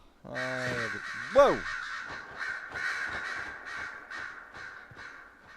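Crows caw loudly in Dragon Age: Inquisition, a cluster of harsh, stacked calls near the start followed by a sharper rising squawk, then a busy game backdrop with a person talking over it.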